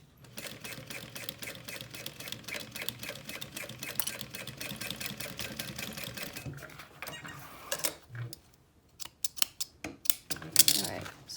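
Sewing machine stitching the layers of a LindSling, zipper moved aside, running in a steady rapid mechanical rhythm for several seconds, then breaking into short separate bursts and clicks near the end.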